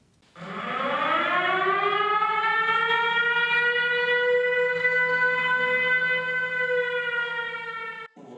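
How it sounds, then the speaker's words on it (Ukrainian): A wailing air raid siren holds one long steady tone with a rich stack of harmonics, rising at the start and cutting off sharply, loud and unbroken. "Система оповіщення повітряної тривоги працює бездоганно."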